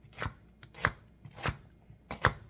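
A knife chopping onions on a cutting board, four distinct close cuts spaced at an even, unhurried rhythm with quiet gaps between, no talking.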